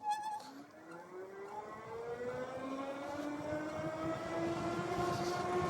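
A Magicycle Cruiser fat tire e-bike accelerates on throttle alone, its electric hub motor whine rising steadily in pitch over several seconds, with wind and road rumble building underneath.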